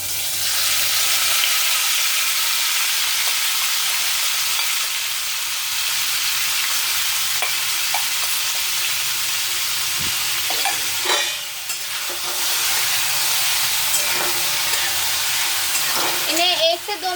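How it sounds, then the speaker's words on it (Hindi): Soybean tikka fry in hot oil in a kadhai with a steady, loud sizzle and occasional stirring scrapes, continuous throughout with brief dips. "आधे घंटे रेस्ट करने के बाद अब हम इन्हें फ्राई कर लेंगे।"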